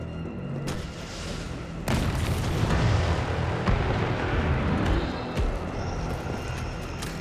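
Rocket launcher explosion in Resident Evil 3 Remake, a loud booming blast that swells into a sustained rumbling roar with debris-like crackle, no talking.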